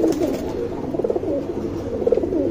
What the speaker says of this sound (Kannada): ಸ್ವಲ್ಪ ಗಾಬರಿ ಅಕ್ಕಿಗಳು.